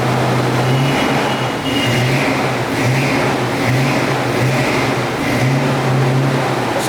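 A modified Ford Focus with a Flowmaster exhaust drones loudly up close, its deep exhaust note rising and falling in repeated rev pulses, steady and rumbling with no speech over it.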